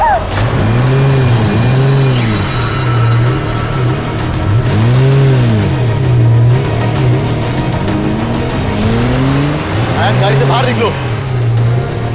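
A car engine revs steadily in rising and falling sweeps, loud and close, while people talk and shout over it in Hindi during a drama scene.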